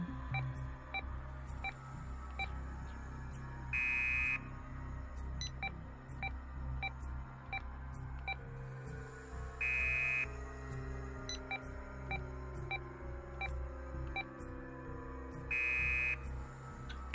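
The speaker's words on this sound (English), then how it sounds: "The random combination of numbers he put in was only met by the sound of a buzzer." A keypad in the video game Root Double answers wrong number entries with an error buzzer: a flat electronic buzz that sounds three times at even intervals over a steady pulsing, beeping game background, with no voices.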